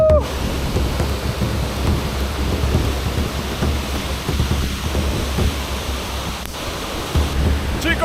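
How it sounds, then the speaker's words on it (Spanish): Waterfall on the Chaica river in Alerce Andino National Park: a constant, close, heavy roar of falling water that fills the whole clip without a break. "les presento al fantástico salto del río Chaica"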